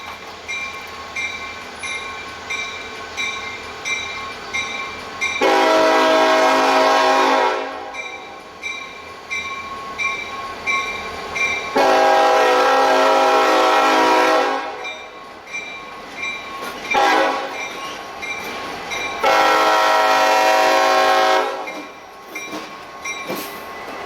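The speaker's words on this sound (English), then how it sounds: "The lead locomotive on today's UBHF, or Union Bridge to Highfield turn, is Buffalo and Pittsburgh 5020, an EMD" An EMD SD50-3 locomotive leads a Maryland Midland freight train past, sounding its horn in several long loud blasts with rumbling wheels and engine between them.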